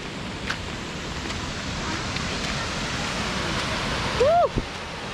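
Ramboda Falls in Ramboda Pass, Sri Lanka, pours as a steady broadband rush of falling water, constant and fairly loud throughout, with a brief voice near the end.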